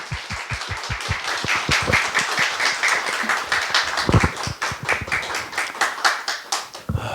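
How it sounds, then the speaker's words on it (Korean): An audience at a church revival service applauds to welcome a pastor; a few sharp individual claps at first quickly build into steady, fuller applause that continues throughout. "우리 한태소 목사님 뜨거운 박수로 환영하겠습니다"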